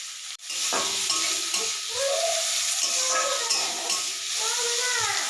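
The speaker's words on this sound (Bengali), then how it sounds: "এদিকে এখন তরকাটা বসিয়ে দিয়েছি, আর এদিকে একটুখানি আদা বাটা রসুন বাটা দিয়ে দিলাম" Curry sizzles and hisses in a wok after ginger-garlic paste goes in, a steady close frying bed with light stirring scrapes throughout.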